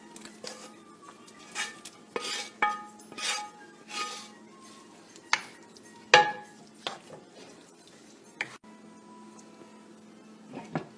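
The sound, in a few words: adding fried and oven-baked chicken into the tikka masala pan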